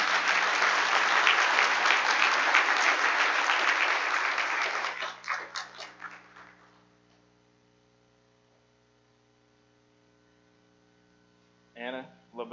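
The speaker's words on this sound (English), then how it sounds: "Y'all can applaud if you would like." A church congregation at a Baptist Sunday morning worship service applauds, full clapping that fades out over several seconds into quiet hum, followed by a brief voice.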